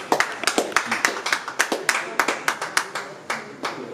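An audience claps in a brisk, uneven burst of applause, close and fairly loud, the sharp hand claps tapering slightly toward the end.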